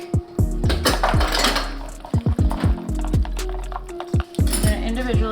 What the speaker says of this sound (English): I am gonna take a pair of chopsticks and mix